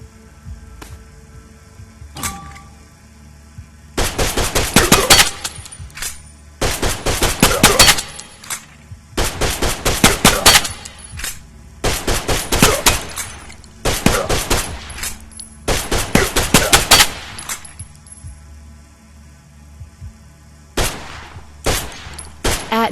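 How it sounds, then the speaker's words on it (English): A pistol is fired in the VR video game Stride, with loud, sharp shots coming in rapid groups separated by short quiet gaps and a faint hum underneath. "Take a pistol and shoot 7 times."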